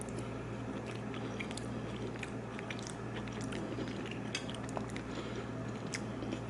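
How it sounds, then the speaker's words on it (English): Chewing on roasted vegetables including squash seasoned with a rub, soft squishy bites and mastication close to the mic over a steady low background hum, no talking. "Let's taste the veggies."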